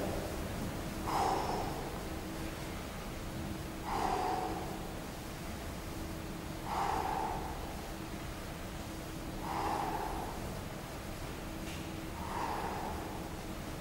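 Rhythmic breathing during hyperextension back exercises, with five slow breaths spaced roughly every three seconds, each a soft, close, airy exhale or snort-like puff over a steady low background hum, no speech.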